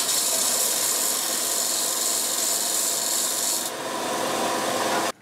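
Sandpaper rubbed by hand over corroded metal rods, a steady, close rasping scrape that runs without pause for about five seconds, with no talking.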